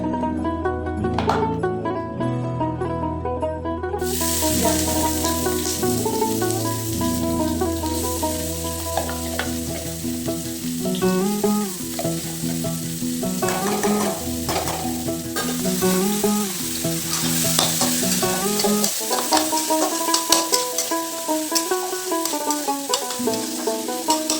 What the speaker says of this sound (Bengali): তেজপাতা ফোড়ন দিয়ে দিলাম এটা কি সেই মাছ ভাজার তেলটা